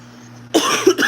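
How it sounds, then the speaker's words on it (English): A couple of sharp, close coughs in quick succession after a moment of quiet hum. "And now I'm coughing."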